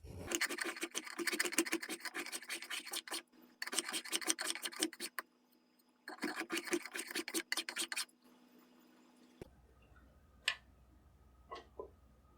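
Hand tools rasp and scrape across a wooden military rifle buttstock, smoothing tool marks in close, rhythmic bursts of strokes separated by short pauses, followed by a few faint taps and knocks.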